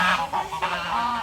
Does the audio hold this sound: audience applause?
no